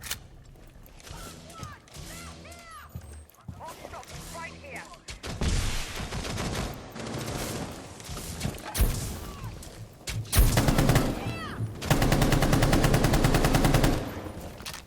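Gunfire in Rainbow Six Siege builds from scattered shots into heavy, sustained automatic bursts, loud and close, with people talking in between.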